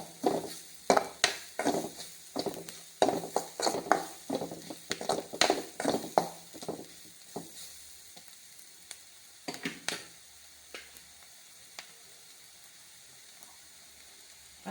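Ingredients for tea-shop masala bonda are sautéed in a pan. A gentle sizzle sits under a rapid series of sharp spatula scrapes and taps that thin out and stop partway through.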